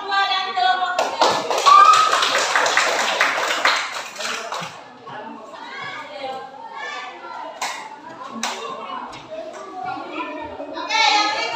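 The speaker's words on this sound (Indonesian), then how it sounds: "Tepuk tangan untuk kelompok 2 dan kelompok 3" A classroom of students claps for groups 2 and 3, a loud burst of many hands that lasts a couple of seconds and then gives way to children chattering, with a few scattered claps returning at the end.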